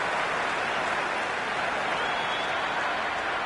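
Cricket crowd in the Cricket 26 video game cheers and claps in a dense, steady roar that stays loud and even throughout, with no clear voice over it.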